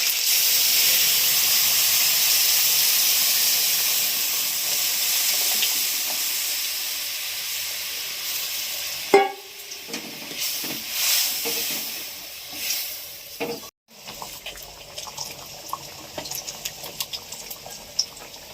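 Lentils for a Bengali vegetable dal poured into a hot pot give a loud steady steam hiss and sizzle for about nine seconds, then a sharp burst of splashing, bubbling and crackling that settles into intermittent sputtering.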